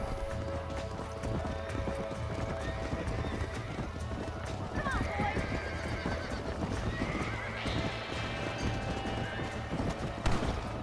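In Red Dead Redemption, a horse's hooves clip-clop in a rapid galloping rhythm while the horse whinnies, set over continuous game music and ambience, with someone talking over it.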